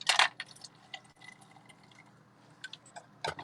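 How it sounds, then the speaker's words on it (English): A cocktail made with fresh-squeezed lime is poured over fresh ice in a glass. A short splashing burst opens the pour, faint trickles and clinks follow, and a second splash comes near the end. No one speaks. "So we're just going to pour over fresh ice."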